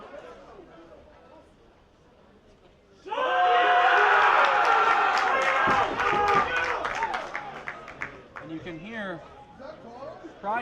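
Rugby players shout and cheer close by on the field during a match between the Vikes and the Pride, a sudden loud burst of overlapping voices that stays strong for several seconds, then thins out into scattered calls.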